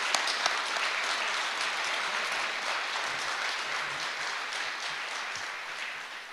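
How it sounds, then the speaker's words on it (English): A room of open-house guests in Tucson, Arizona gives a big, dense round of applause to young Ford ASSET automotive technician students, sustained and loud for several seconds before easing slightly. "I want to give all these young men a great hand of applause."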